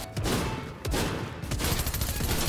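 Submachine gun fire in the video game Fortnite, rapid continuous bursts with a short pause, close and loud throughout.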